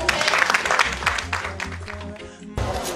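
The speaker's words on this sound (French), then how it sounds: "On applaudit, s'il vous plaît." Audience applause at a community day event in 2021 greeting a slam poet's arrival, a dense wash of claps mixed with talk and music that cuts off briefly near the end before resuming.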